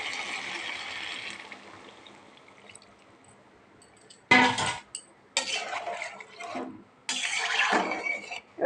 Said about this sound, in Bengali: এবার আমরা জল দিয়ে দেবো।